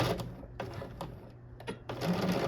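A domestic sewing machine stitches a seam in knit hoodie fabric with short bursts of rapid mechanical rattling and brief pauses between runs, close and fairly quiet.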